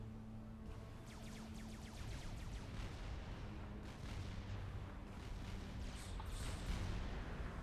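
Units trading artillery and gunfire in a Supreme Commander: Forged Alliance battle on the Gap of Rohan map, a dense, continuous rumble of rapid shots and booms with a low droning hum underneath, no talk.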